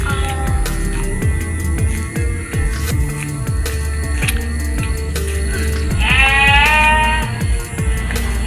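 Goats on a small Indonesian farm, a drawn-out wavering bleat rising near the end over a steady mechanical rattle and ticking background noise.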